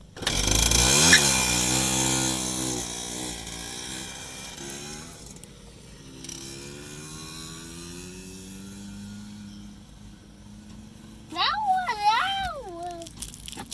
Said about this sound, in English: I tried to just pop start it down the driveway and hold it wide open to see if I could clear the carburetor out